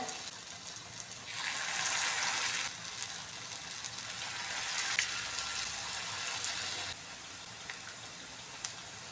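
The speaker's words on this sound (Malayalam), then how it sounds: "എണ്ണ നന്നായിട്ടൊന്ന് ചൂടായിട്ടുണ്ട് ഇനി ഇത് കുറേശ്ശെയായിട്ടൊന്ന് ഇട്ട് കൊടുക്കാമേ" Spoonfuls of wheat flour pakoda batter drop into hot oil and set off a steady, bright sizzle. It swells louder for a couple of seconds, then settles into a constant hiss, with no talking.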